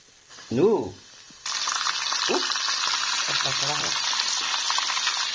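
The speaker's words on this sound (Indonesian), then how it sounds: "Udah goreng, ini kita goreng." Food frying in hot oil sizzles steadily and loudly from mid-clip onward, following a short burst of speech and a few clinks.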